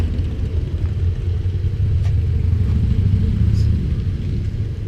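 A Datsun 1200 pulls up with a steady, loud low engine rumble that holds throughout, close by and continuous with no pauses.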